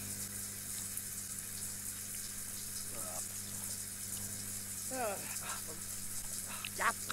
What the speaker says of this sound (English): Right, so I need to take a shower.